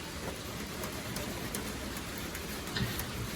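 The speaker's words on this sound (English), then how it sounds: "Well, it started to rain" Rain falling outdoors around a pontoon boat being rebuilt, a steady dense patter of drops with scattered louder ticks, continuous throughout and with no voices.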